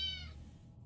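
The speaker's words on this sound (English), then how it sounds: "that's the cat." A cat meows once inside the survival game 60 Seconds, a short, bright, tonal cry up close that fades quickly into a low background hum.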